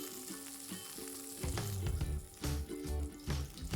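A chicken roulade sizzles in a frying pan with a constant crackle, and louder bursts of frying and stirring swell in partway through. No one speaks.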